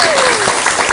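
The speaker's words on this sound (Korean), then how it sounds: "먼저 박수 한번 드리죠." Studio audience on a Buddhist TV talk show bursts into loud applause, dense continuous clapping close to the microphones with a faint tonal sweep underneath.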